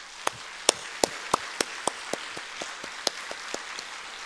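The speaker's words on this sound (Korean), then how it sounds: "감사의 박수 드리겠습니다" Audience at a church North Korea mission gathering applauding in thanks after a professor's lecture, sparse separate claps ringing out one by one at an uneven pace over a quiet room, with no talking.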